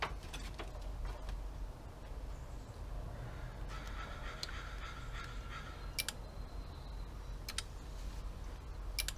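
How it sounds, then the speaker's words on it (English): Scattered sharp mechanical clicks of car relays, some single and some in quick pairs, over a steady low engine-bay hum, with a brief fuel pump whirring drone in the middle. "So you can hear relays clicking now."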